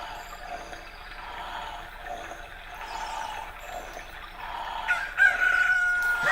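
A newly hatched chicken crows in the Ocarina of Time video game, a bright rising cock-a-doodle-doo cry near the end over soft ambient game music.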